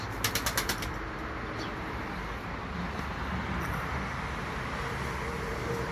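A few quick wing flaps from pigeons taking off in a brief burst near the start, then steady outdoor background noise with distant traffic.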